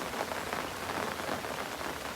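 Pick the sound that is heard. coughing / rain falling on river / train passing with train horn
rain falling on river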